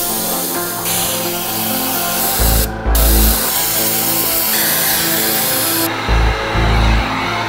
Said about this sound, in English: All right, we're gonna spray the little monkey with the black.